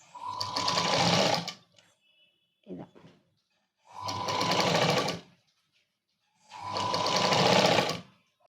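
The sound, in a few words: sewing machine stitching dress sleeves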